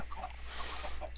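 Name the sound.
chickens clucking in Minecraft video game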